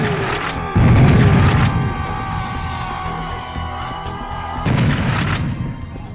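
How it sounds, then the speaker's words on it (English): Rockets striking an arachnoid enemy in the video game Serious Sam: The First Encounter, two heavy booming blasts a few seconds apart over a sustained mechanical drone, loud and without talk. "They take about 4 hits of the rockets to kill it."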